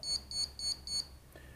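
An ESC on a Tarot 680 drone gives four quick, evenly spaced high-pitched electronic beeps in a row during throttle calibration, then a softer lower tone, over faint background hiss.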